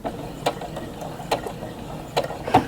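Sewing machine stitching backward along a quilt's mitered border, a few short mechanical bursts of needle clatter spaced apart, close and fairly loud with no talk.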